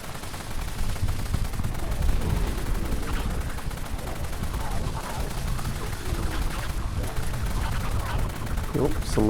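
Sustained machine-gun fire in the zombie survival shooter Dead Frontier 3D during a boss fight against a Flaming Black Titan, a dense, continuous rattling wash of shots at steady loudness throughout, with no talk over it.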